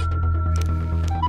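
A phone rings with a Bollywood song ringtone inside a car, a steady tonal melody with a low hum running continuously underneath at close range.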